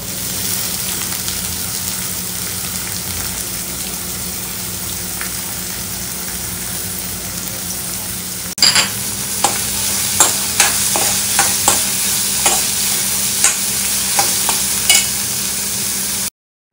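Onions frying in a pan in a home kitchen, a steady sizzle throughout, joined halfway by a run of sharp scraping stirs at an irregular rhythm, close and fairly loud, with no talking.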